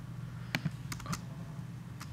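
Three or four quiet clicks of a Mac computer keyboard's spacebar being pressed, spread sparsely over a couple of seconds against a low steady room hum.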